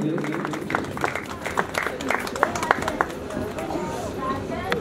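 Loud crowd applause welcoming a spiritual guest at a devotional gathering in Ayodhya, dense irregular clapping with sharp peaks over background chatter and murmuring voices.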